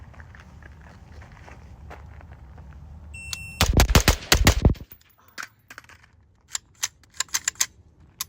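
Rapid string of six suppressed gunshots from a Radical Defense MK1 PDW, loud, close and sharp, packed into under two seconds, followed by quieter scattered clicks and taps of handling.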